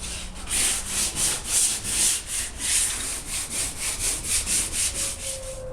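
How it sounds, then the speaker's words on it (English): Sandpaper of 120 grit is rubbed by hand over the gel coat of a Boston Whaler boat, producing steady, rhythmic back-and-forth rasping strokes, close and fairly loud, with no voices. "So I'm hand sanding down with 120 grit"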